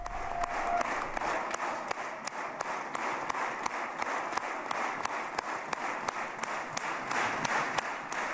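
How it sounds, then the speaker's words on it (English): Applause in the Israeli Knesset for Donald Trump, a steady sustained clapping from a large chamber audience with sharp individual claps standing out, continuous throughout. "Lots of applause going on now"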